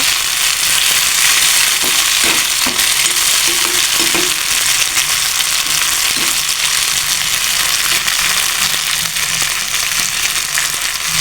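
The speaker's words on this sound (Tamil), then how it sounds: "நல்லா ஸ்லோ ஃப்ளேமில் வச்சு நல்லா வதக்கிக்கோங்க" Poduthalai leaves sauté slowly in a pan over a low flame, producing a continuous dense frying sizzle with occasional light stirring scrapes, steady and close throughout.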